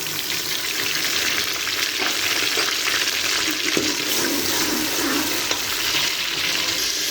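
Garlic and ginger paste sizzles and fries in hot oil for a beef dagi korma, a loud, steady crackle with occasional stirring scrapes and no voices.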